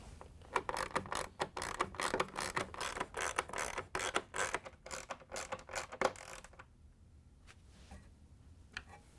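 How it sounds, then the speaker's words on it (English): A ratchet with a 1/4-inch socket drives in screws on the auger motor of a Whirlpool/KitchenAid/Maytag ice maker. Fast, close clicking runs for about six seconds, then stops, leaving a few faint clicks. "we can use the ratchet with the 1/4-inch socket to put the screws in"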